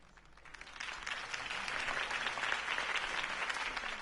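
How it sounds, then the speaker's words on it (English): Crowd applause at a campaign speech in the Batman video game, a steady mid-level clapping that swells slightly and carries on throughout without voices. "could have heard that applause"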